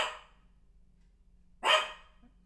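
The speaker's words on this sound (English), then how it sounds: "That's my dog cheering me on in the background" A dog barks twice in the background along a criterium race course, one short bark at the start and a louder burst later, separated by quiet.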